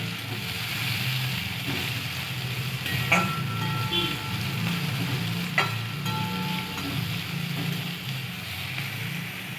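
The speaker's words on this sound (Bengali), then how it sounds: "এবার দিয়ে দিচ্ছি এক বাটি পেঁয়াজ পেঁয়াজটা একটু বেশি দিয়েছি ভালো করে পেঁয়াজটাকে লাল করে নেব" Chopped onions sizzle and fry steadily in hot oil with green chillies for a spicy prawn curry with tomato and coriander, a continuous close crackle with occasional clinks of a spoon stirring the pan.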